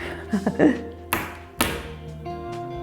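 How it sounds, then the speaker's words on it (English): A small glass essential oil bottle is banged against a hard surface to seat its cap, giving a few soft taps followed by two sharp knocks, close and fairly quiet. "Okay, I'm just going to have to bang this, okay?"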